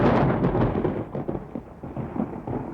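Thunder from a thunderstorm over a highway paving site rolls in as a deep, loud rumble, strongest at the start and then grumbling on unevenly with softer booms.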